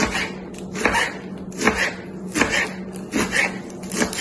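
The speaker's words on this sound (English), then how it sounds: "we're just going to take our spinach and we're going to slice it this way" Knife slicing fresh spinach into thin strips on a cutting board, a series of soft rhythmic chops and thuds about every half second to second, close and moderately loud, with no talking.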